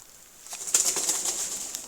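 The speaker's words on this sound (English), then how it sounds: "Oh, you bloody birds." Pigeons at a churchyard graveyard flap their wings in a rapid flurry of soft, papery beats, close and fairly loud, with no voices over the brief burst of movement.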